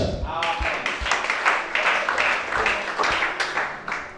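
A church congregation applauding, a dense wash of clapping that holds steady for several seconds with voices mixed in.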